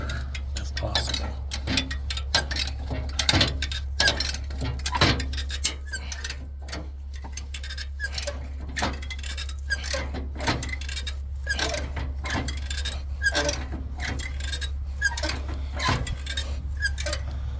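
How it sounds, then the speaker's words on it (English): A car jack is worked at a salvage yard, a steady series of metallic ticks and clicks repeating over a constant low hum, close and moderately quiet. "see if we can jack this baby up"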